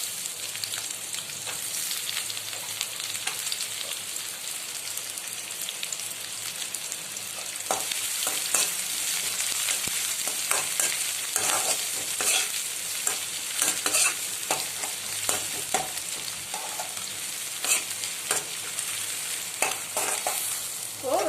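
Onions frying in a pan with ginger and garlic for wheat-flour egg noodles, a steady crackling sizzle broken by frequent scraping stirs that grow busier partway through, close and continuous with no talking.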